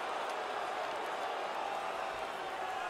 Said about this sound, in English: You can hear the crowd. They knew who won that fight.